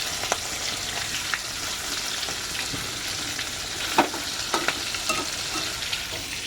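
A large piece of fish fries in hot oil in a pan, giving a steady close crackling sizzle, with a few sharper scrapes and knocks as a spatula works to turn it.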